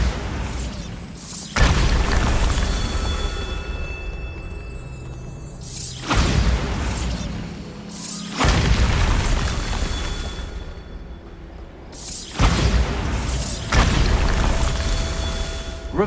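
Several loud, booming blasts from the Bombarda spell in Hogwarts Legacy ring out at intervals of a few seconds. Each blast opens with a sharp crack and trails into rumbling debris and mechanical clatter.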